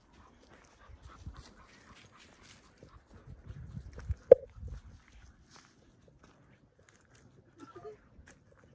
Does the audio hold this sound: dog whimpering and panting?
yes